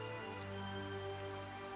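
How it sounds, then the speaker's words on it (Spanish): Light rain falling steadily at night, a soft, even patter with no voices, quiet and continuous throughout. "La lluvia fina caía en ángulos suaves, formando círculos perfectos sobre la superficie"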